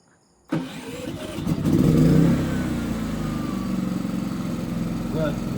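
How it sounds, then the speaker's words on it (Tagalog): A PK7500i generator starts up after a power cut, firing with a sudden loud catch and then settling into a steady, rumbling idle that briefly swells before holding an even drone. "Generator na ngayon yung nabuhay."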